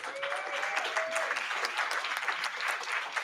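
Sustained clapping from an audience at a panel on Citigroup and environmental racism, a steady mid-level patter of many hands with a brief vocal whoop over the start.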